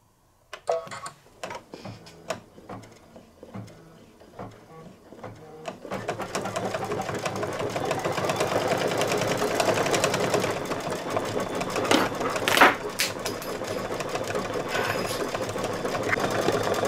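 Embroidery machine stitching a satin-stitch border on fabric bunting held in a hoop, a steady rapid mechanical chatter that starts in short bursts and settles into continuous close running.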